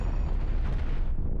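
Rapid, dense weapon fire from lasers and missiles on a spaceship in the space combat game Cosmoteer, a continuous loud barrage of overlapping booms and bursts that thins out near the end.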